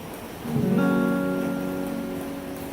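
Rain begins to fall at Sikhio in early evening, a soft steady hiss that swells after a moment and carries on with a faint tonal hum underneath.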